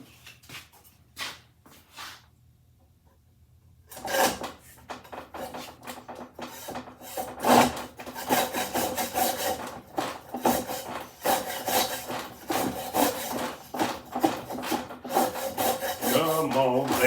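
A saw works back and forth to widen a kerf cut in wood, giving a few quiet strokes, a short pause, then a steady run of loud, close, rasping strokes.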